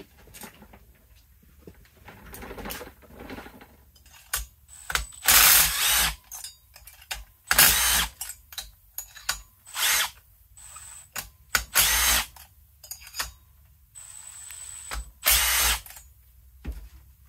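Power driver loosening bolts to remove a cylinder, with repeated loud ratcheting bursts of whirring and clatter separated by brief pauses, close by and without talk.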